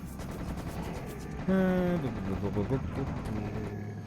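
Gunfire in the first-person shooter Serious Sam HD: The Second Encounter, shots crackling steadily through a busy battle mix, with a brief tonal in-game cry partway through and someone talking over it.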